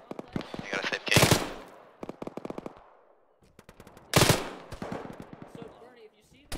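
Gunfire in an ArmA-style ShackTac military game battle: rapid machine-gun bursts and single shots, close and sharp, with two loud blasts amid the firing and people talking between the shots.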